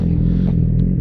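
A Yamaha MT-07 motorcycle engine running with a loose exhaust. A brief, close, steady idle throbs with a faint rattling clatter, and no talking.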